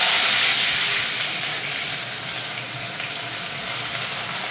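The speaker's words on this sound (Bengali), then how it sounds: "এই যে তেলটা গরম হয়ে গেছে আর এই ধোঁয়া উঠছে, এই সময় এই যে কুচানো পেঁয়াজটা আমি দিয়ে দিচ্ছি।" Chopped onion dropped into smoking-hot oil gives a steady, loud broadband sizzle and hiss that starts strongest and eases slightly into a constant frying roar, with no voices.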